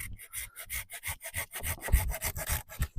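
Hand saw cutting through a thick tree branch, roughly 4 cm across: quick, even back-and-forth rasping strokes, close and fairly loud, with no voices.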